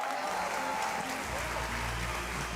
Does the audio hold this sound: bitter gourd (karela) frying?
no